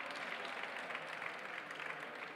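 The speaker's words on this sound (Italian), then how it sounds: "un applauso per cortesia" An audience at a hackathon award ceremony on a main stage claps continuously, a soft, fairly distant wash of applause without speech.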